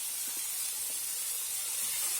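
Water added to a hot frying pan of onions, producing a steady bright hiss and sizzle that holds at an even level throughout, with no talk over it.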